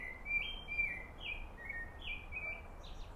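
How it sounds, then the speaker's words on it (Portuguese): Birds chirp and sing in a garden, a series of clear high tweets and short whistled phrases repeating over a quiet background, fairly faint and with no talking. "Olha que lindo esse canto dos pássaros."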